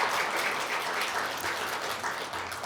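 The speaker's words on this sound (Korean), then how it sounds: "박수 한번 해줘요." An audience at a Korean church broadcast applauds in a steady, moderately loud wash of clapping that holds evenly from start to finish.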